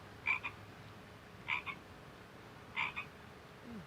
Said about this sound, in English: Let's listen to the real frog.